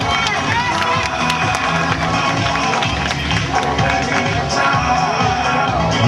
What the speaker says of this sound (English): Ladies and gentlemen, how about a round of applause for our wakeboard team?